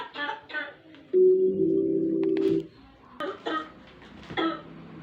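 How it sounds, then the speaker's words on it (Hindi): A man coughs in harsh, close bursts, then a long strained, droning wheeze in the middle, followed by more rough, uneven coughing sounds. "खांसी भी भैया कैसे कैसे तरीके की होती है।"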